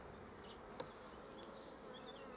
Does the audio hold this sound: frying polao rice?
no